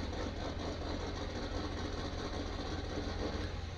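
An old 4620 tractor engine runs at a steady, loud, low drone with a constant vibrating rumble and no change in pitch, heard alone without talk.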